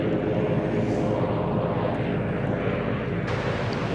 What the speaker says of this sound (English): One of the little dash 8s making a bit of noise out there.